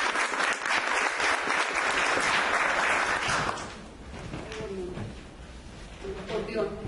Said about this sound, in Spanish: Damos también un aplauso